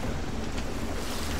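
Rushing seawater floods the hull of a sinking ship in the pirate game Sea of Thieves: a dense, steady roar of churning water and wind noise that fills the short moment without pause, with no voices.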